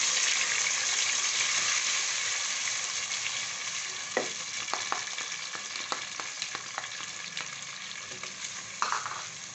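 White cumin and a ginger-garlic-tomato paste frying in hot ghee give a steady, loud sizzle throughout, with light scraping and tapping from stirring as the pan settles slightly toward the end.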